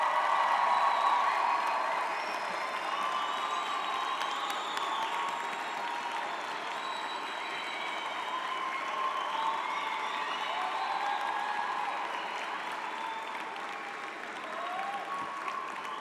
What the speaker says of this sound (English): Parents of the graduates, would you please stand and let us applaud you for your role.